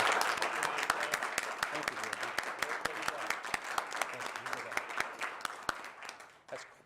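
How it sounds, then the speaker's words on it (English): Applause from a city council meeting audience honoring a student of the month, steady clapping lasting several seconds and slowly thinning out, with a brief spoken word at the start. "Let's give a round of applause for Angela, student of the month at Farmington."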